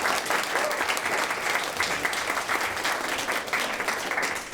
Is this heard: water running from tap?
no